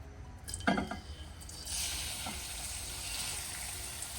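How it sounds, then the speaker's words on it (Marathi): Grated carrot sautés in ghee in a wok for carrot halwa with jaggery, a steady soft sizzle rising after a couple of sharp utensil clinks near the start and holding at moderate loudness throughout. "छान हा जो गाजरचा किस आहे तो आपण छान परतून घेऊया तुपामध्ये"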